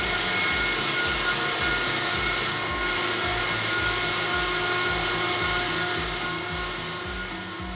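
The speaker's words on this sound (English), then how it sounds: "This is the piece of equipment that allows us to test our vacuum pumps under the most extreme humid" An Atlas Copco liquid-ring vacuum pump runs steadily and loudly on a humid-conditions test rig, with a rhythmic pulsing throb underneath a constant mechanical whine, continuing without pause.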